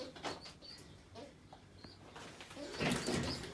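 Gök pigeons of mixed colours in a coop coo softly in low, rounded calls, with a louder burst of rustling near the end.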